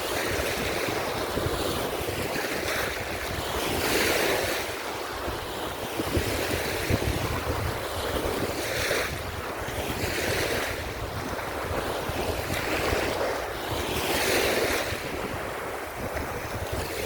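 Sea waves roll and surge steadily against the shore while gusting wind buffets the microphone, loud and continuous for the whole stretch with no voices.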